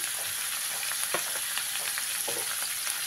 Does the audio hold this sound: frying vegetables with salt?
yes